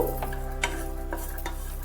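Peanuts and sesame seeds roast in a pan over a steady, close sizzle, with a stirring scrape against the pan about every half second.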